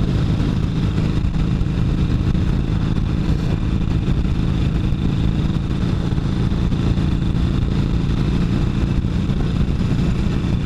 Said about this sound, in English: I got the wind hitting all up on my chest and my arms and my legs. And I'm having a good ride.